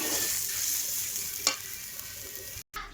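Radish greens with potato sizzle and hiss steadily in a wok, with one sharp scrape of stirring midway and a brief cut-out near the end.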